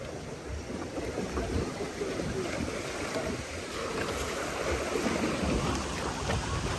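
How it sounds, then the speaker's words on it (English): Water rushes and splashes around a log boat on the Stanley Falls flume ride at Busch Gardens Tampa, a steady broad roar under light wind buffeting on the microphone. "Little splash."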